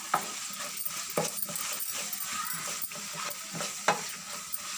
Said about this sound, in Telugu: మసాలా బాగా వేగుతుంది